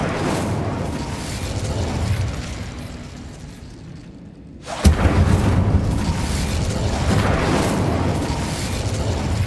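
Fire and ice spells cast in Hogwarts Legacy: a dense rumbling blast of magic fills the scene, dips briefly, then a sharp burst erupts midway and a loud roaring wash continues without talk.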